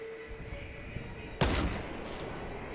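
A single distant gunshot cracks once in Fortnite Battle Royale, a sharp broadband burst fading over a second, heard over a low game-ambience bed with no talk.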